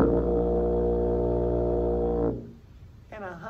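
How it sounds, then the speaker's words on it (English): One deep, steady low note on tuba, the lowest-pitched band instrument, held loud and buzzy for a couple of seconds, then cut off into quiet before a short bit of speech. "A low note on tuba sounds like this"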